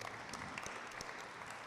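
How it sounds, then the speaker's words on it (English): Applause from the audience at a school graduation ceremony, a dense, steady wash of many hands clapping with scattered louder claps poking through, continuous across the moment. "All right, clap him up, please."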